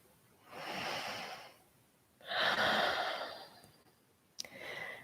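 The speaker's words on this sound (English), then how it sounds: "And take one more deep breath here." A slow, deep breath during a morning yoga session: a long audible inhale, a fuller exhale, then a short catch and another soft breath, close and clear with no talking.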